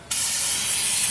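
Fluid Film aerosol sprayed onto the hat of a Jeep Liberty's rear wheel hub, a sudden close, steady hiss that starts abruptly and holds loud for about a second.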